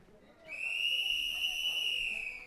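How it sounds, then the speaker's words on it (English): A referee's whistle at a timbersports heat sounds as a single sustained, bright tone held for about two seconds, loud and clear over quiet background murmur. "There's the whistle."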